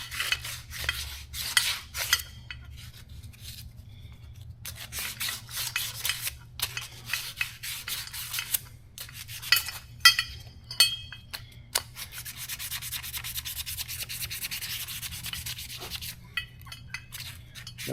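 Sandpaper rubbing a bushing inside the clutch of a 2018-2020 Polaris RZR Turbo, heard as steady scratchy strokes in irregular bursts, close and moderately loud with no talk.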